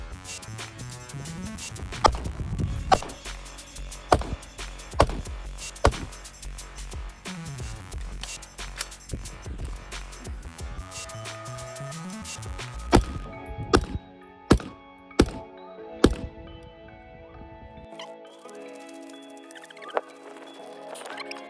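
Rifle shots fired from kneeling and prone positions at targets during a tactical rifle qualification course: sharp, widely spaced reports at irregular intervals, loud and close, with quieter stretches between.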